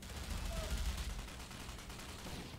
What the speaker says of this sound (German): Ich schieß irgendwo hin.